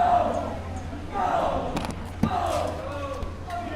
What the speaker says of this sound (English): you're hearing the teammates cheer on the swimmers as their heads are coming up as they breathe